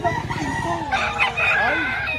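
A gamecock at a poultry market in Lipa, Batangas crows loudly and close, one long wavering call over the busy market background with voices around it.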